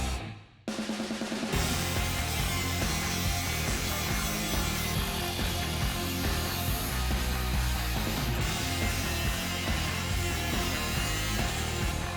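A power saw cuts through a metal brace on a 1970 Chevelle, a loud, continuous grinding whine that starts abruptly after a brief lull and keeps going steadily up close.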